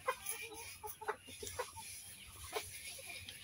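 A domestic hen clucks in short, close bursts, several soft calls in an uneven rhythm over low background noise at a village home.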